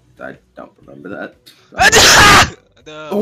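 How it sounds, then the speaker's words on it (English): A loud, sudden human sneeze bursts out midway between bouts of casual conversation, followed by more talking. "That was a sneeze."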